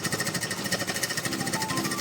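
A sewing machine stitching a bag made from an old woven sack, running fast and close with a steady, rapid mechanical rattle throughout, the needle rhythm even and unbroken.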